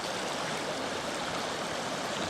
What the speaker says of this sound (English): it's just a little river, a little Spa Creek running through Woods Point